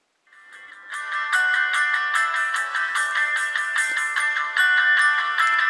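A Landvo L800 smartphone plays its startup tune as it switches on, a bright, melodic chime of layered notes that runs for several seconds, close and clear with no talking.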